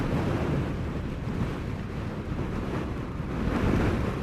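Strong, steady wind buffets the microphone with a constant low roar and gusty rumble throughout, with no voices, in the Central Highlands of Tasmania.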